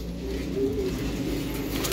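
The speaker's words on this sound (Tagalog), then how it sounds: "ito na yung ibon" A pigeon kept among racing flyers coos in a low, steady, continuous murmur close by, with no talk over it.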